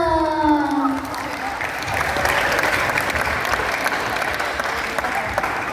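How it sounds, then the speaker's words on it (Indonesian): An audience claps at a campus orientation talk show, dense and fairly loud, continuing steadily after a sung or spoken tone at the start. "Tepuk tangan dong."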